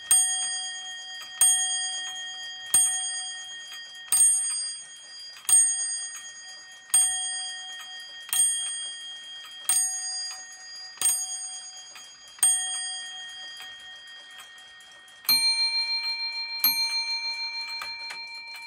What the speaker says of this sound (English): Bell hammers in action.